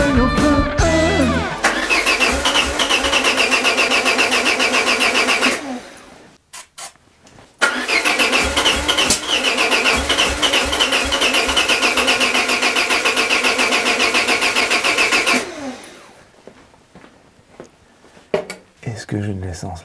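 Peugeot 205 with brake cleaner sprayed into the carburetor, cranking and catching in two long starter-and-engine bursts, each cutting out abruptly, loud and close with a clatter at the end.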